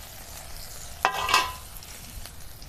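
Chopped capsicum and tomato hit a pan of lightly browned onion and green chilli, bursting into a sharp sizzle followed by a second surge of frying as the mix is stirred, then a quieter steady crackle.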